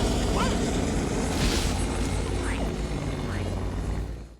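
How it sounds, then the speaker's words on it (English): A Star Wars MTT repulsor transport hovering overhead, a loud, dense, rumbling engine roar with a whooshing hiss that stays steady, then fades out at the end. "an MTT transport floats over the pair"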